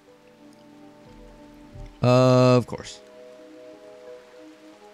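Soft, steady rain ambience plays in the video game Rimworld, faint beneath a low hum, with a brief spoken phrase cutting in midway.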